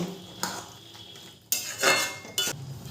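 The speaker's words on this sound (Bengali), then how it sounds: "আবারও একটু ঢাকনা দিয়ে দেবো।" Metal clanks and scrapes of a cooking pot and utensils as a lid goes onto a pot of tomato chutney with tamarind pulp, a few sharp knocks spaced across the moment, close with no voices.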